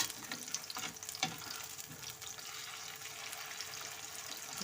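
Potato tikkis frying in oil over a low flame, giving a steady, dense sizzle with crackling pops and a few brief scraping stirs near the start, close and continuous with no talk.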